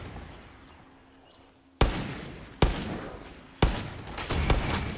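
Three loud, sharp bursts of gunfire in Far Cry 6, each a sudden crack followed by a rattling tail. They come about a second apart after a quiet stretch, with the last one trailing into sustained noise.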